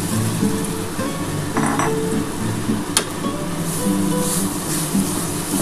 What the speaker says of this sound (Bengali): আমার তেলটা গরম হয়ে গেছে, আমি এই ডালটা দিয়ে দিলাম।